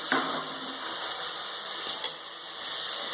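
Oil sizzles and hisses steadily in a pan as onions, green chillies and tomatoes cook down for an egg curry, with a couple of faint stirring knocks and no talking.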